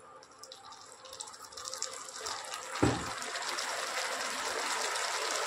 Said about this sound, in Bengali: তাহলে বাটি ধোয়া জলটুকুনি শুধু দিচ্ছি, আর জল দেব না।